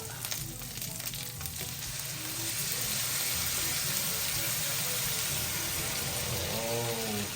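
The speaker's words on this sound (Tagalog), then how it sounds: "maglalagay na po tayo ng gata" Coconut milk goes into a hot pan of gising-gising, a steady sizzling hiss that grows louder and denser partway through, with faint stirring and no voices.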